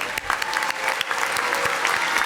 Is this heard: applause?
yes